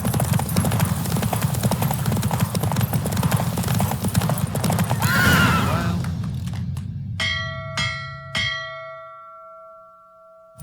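In The Witcher 3, a horse gallops during a race with rapid loud hoof clip-clops that give way to a whinny, followed by several ringing bell chimes over fading ambience.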